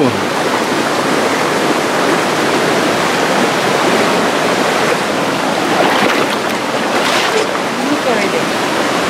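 Rushing water at a stream crossing on an outdoor trip, a loud, steady roar of flowing water filling the whole clip, close by and unbroken.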